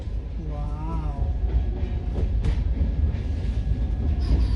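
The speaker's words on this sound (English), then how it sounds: "That train has got some speed now." An Indian passenger train bound for Nashik runs fast along the rails, heard from inside as a steady loud rumble and rattle throughout, with brief voices and a short whistle-like tone early on.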